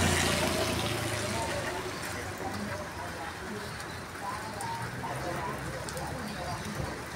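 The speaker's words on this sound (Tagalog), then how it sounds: "Umuulan, bumabagyo, malakas ang hangin." Steady rain and strong wind during a storm in a Philippine barangay, a dense, constant hiss and rush of drops and gusts, close and continuous, with a person talking over it.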